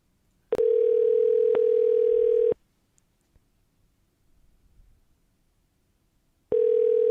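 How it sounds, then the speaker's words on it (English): An outgoing telephone call rings back with two long tones separated by a few seconds of near silence, clean and electronic, with no voices over it. "Please answer the phone, pimp."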